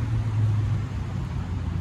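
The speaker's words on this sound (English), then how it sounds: "But Griff Travel Town is right by a freeway, so that's why you hear a bunch of cars." A steady, low roar of passing cars on a freeway beside Travel Town in Los Angeles hums continuously in the distance, with no voices.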